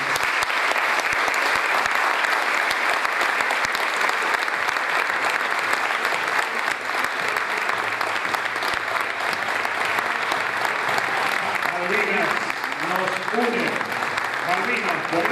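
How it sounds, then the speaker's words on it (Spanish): Sustained applause from a municipal council audience honoring Malvinas war veterans at a 40th-anniversary tribute, a dense steady wash of clapping throughout with voices rising near the end. "Un fuerte aplauso para cada uno."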